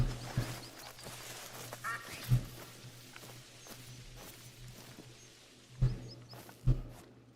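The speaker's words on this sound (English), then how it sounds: "Well, I can hear ducks." Ducks quacking in a hunting video game set in the wild, a few short calls in the distance over a quiet ambient bed with occasional soft footstep-like thuds.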